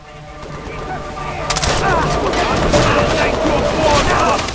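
A new weapon in Far Cry 3 fires loud rapid bursts that start abruptly partway through and keep going, layered over faint voices and ambient noise.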